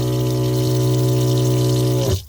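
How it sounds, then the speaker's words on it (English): Water runs steadily from a stainless steel faucet into a sink inside a Suburban camper, a loud continuous hum-like flow with a strong pump tone, then stops abruptly near the end. "turn on the water, have some water, and it will drain down to the gray water container"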